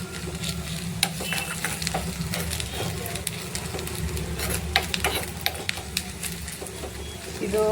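A tempering fries in an iron spoon or pan with a constant close sizzle, broken by sharp clicks and scrapes from stirring, and no talk over it.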